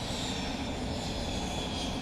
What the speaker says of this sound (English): you might hear quite a lot of engine noise